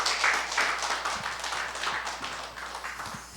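A church congregation at a regional camp forum in Korea claps to welcome a pastor, with a continuous, fairly soft wash of many hands that stays even throughout and has no talking over it.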